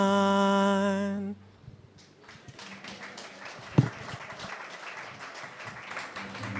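Applause from a memorial gathering celebrating a woman's life, given for Mr. Karim Salha, rises after a sustained musical note stops and continues as a steady, moderately distant patter of clapping with one sharp tap midway.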